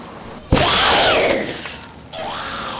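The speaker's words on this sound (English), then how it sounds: "When's the last time you heard just a bag screaming?" A bag screaming as a film sound effect: a loud, harsh scream bursts in suddenly and holds, sliding in pitch and fading a little before a second, quieter wail rises at the end.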